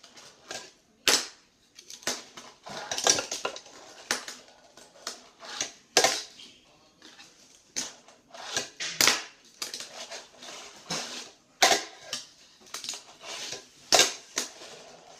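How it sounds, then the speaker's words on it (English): Fingerboard kickflip attempts on a cruiser fingerboard off a small edge, a series of sharp, close plastic-and-wood clacks and pops at irregular intervals, each a crisp snap followed by quieter landing taps. "pop on this little edge here, and then kickflip on the cruiser."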